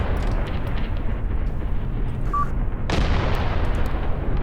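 An artillery barrage in the tank war game Graviteam Tactics Mius, a steady low rumble of shelling with a sharper burst of impact near the middle, heard without talk.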